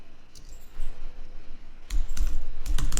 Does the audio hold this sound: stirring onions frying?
no